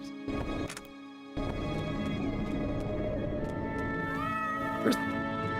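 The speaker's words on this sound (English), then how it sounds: "Where's the cat?" A cat gives a couple of short rising meows late on, moderately close, over constant background music and noise after a brief gap near the start, with no speech.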